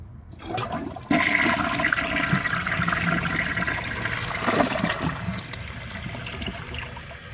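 A Corona Aquajet toilet flushes during a bowl rinse test with dirt in the bowl, the rush of water starting abruptly after a quiet second and then holding a steady, close, full roar that tapers slightly toward the end.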